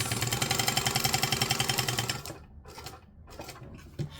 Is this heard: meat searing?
no